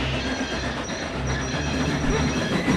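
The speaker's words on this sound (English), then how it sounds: "Working together, they were able to stop the train just in time." A train rolling and rumbling steadily, with a low continuous drone and faint wheel noise as it is brought to a stop just in time, loud and close, no one talking.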